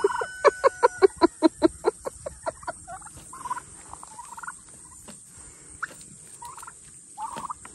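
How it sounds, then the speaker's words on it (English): Farm turkeys gobble in a rapid rattling run of a dozen or so pulses, followed by scattered separate calls at moderate distance. "You can hear the turkeys in the background."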